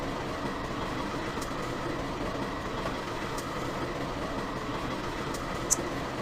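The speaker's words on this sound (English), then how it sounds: "The train is going around the big over the rail line." A train runs along a rail line, giving a steady, continuous rumble with faint rail clatter throughout and one brief sharp click near the end, with no voices.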